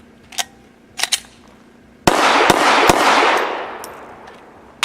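Gunshots from a Full Conceal M3D folding pistol: a few sharp isolated shots, then a quick string of loud reports that leave a long decaying echo, followed by one more shot.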